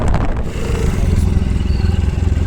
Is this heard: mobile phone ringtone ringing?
no